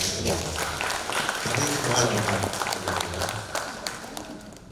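Applause from an audience at a Bank Sumsel Babel gathering, steady clapping mixed with a voice talking over it, fading slightly toward the end.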